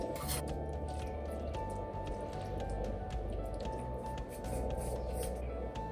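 Spinach pie filling for spanakopita is spooned onto folded pastry, with soft, close, wet squishing and dripping sounds continuing steadily against a quiet room hum.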